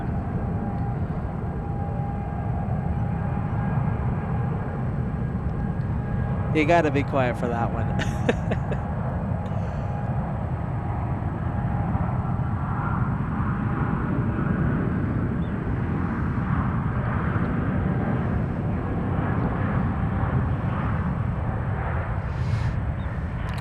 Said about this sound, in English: Love the sounds of the Trent 1000s there, the Rolls-Royce Trent 1000s on that Dreamliner.